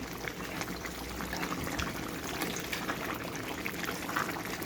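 Karnıyarık filling of sauce seasoned with salt and garlic simmering in a pan, a steady, close bubbling sizzle with soft liquid gurgles running throughout, no talking.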